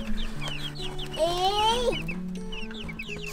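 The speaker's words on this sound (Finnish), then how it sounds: "Täällä on ne tiput ja sitten tuolla on yksi kana ja täällä on toinen." Hen and fluffy silkie chicken chicks in a homestead henhouse cluck and peep steadily, with one louder rising hen call in the middle, while a person briefly exclaims nearby.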